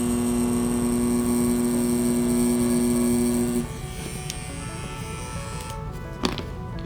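Mast Tour Y23 permanent makeup machine running steadily with a tight, high electric buzz and whine, loud and close, then dropping to a quieter hum partway through, with a brief click near the end.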